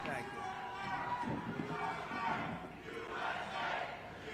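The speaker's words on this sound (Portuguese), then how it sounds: "O público grita USA" At a Trump speech, a large crowd shouts and chants continuously in a dense, roaring mass of voices, heard from some distance.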